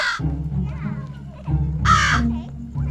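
A crow caws in a devotional television serial, two harsh calls heard close and loud, mixed with voices and a dramatic music bed.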